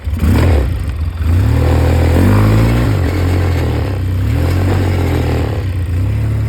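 Polaris 700 engine idling and revving steadily nearby with a loud, continuous low rumble, some mechanical clatter and rises in pitch as it's throttled, no talk over it.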